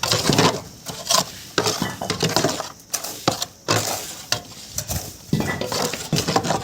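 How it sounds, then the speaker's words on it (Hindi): Cement slurry for brickwork is mixed by hand, with irregular scraping, clinking and sloshing strokes close by. "जो सीमेंट स्लरी होती है, हमें वो अच्छे से प्रॉपर मिक्स करके"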